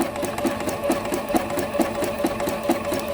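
A sewing machine zigzag-stitches an applique piece on a Christmas tree quilt, its needle chattering in a quick, even rhythm of repeated clicks over a steady motor hum, close and alone.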